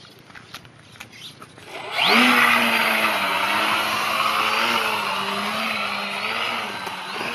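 Engine of a radio-controlled biplane on its last flight, a loud steady whine that rises at about two seconds and holds with slight pitch wavering as it passes overhead, with faint talk at the start.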